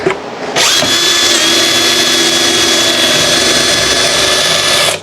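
A powerful electric drill drives a screw, spinning up sharply after a brief quiet start and then holding a loud, steady high-pitched whir with a constant tonal whine to the end.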